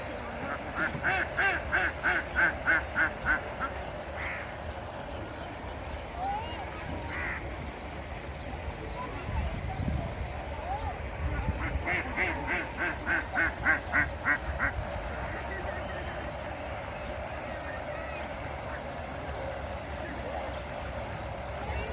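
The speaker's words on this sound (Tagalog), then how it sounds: "Ang daming duck. Ducky, ducky." Ducks quacking in two bursts of rapid, rhythmic calls in an outdoor city setting, fairly close, with a low background rumble and some talk between the bursts.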